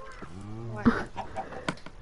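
A Minecraft chicken squawks in a drawn-out, tonal cluck, followed by a few short, choppy bursts of game noise at moderate loudness.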